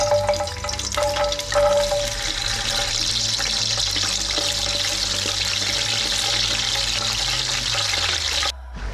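Cashew nuts sizzling in hot ghee mixed with sunflower oil, a loud, continuous crackling fry heard up close, with some stirring before it cuts off abruptly near the end.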